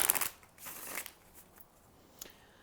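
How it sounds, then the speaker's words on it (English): Tarot cards are riffled and shuffled by hand in a few quick bursts, crisp papery flutters with short pauses between, close and fairly quiet, no talking over them. "2 more shuffles and then we'll lay these out"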